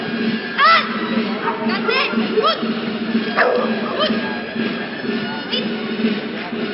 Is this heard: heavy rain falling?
no